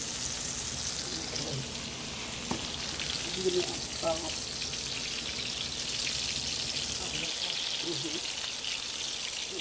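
Gravy steak patties frying in a pan on a home stovetop, giving a soft, steady sizzle and crackle with a few small pops and faint clinks, fairly quiet and continuous.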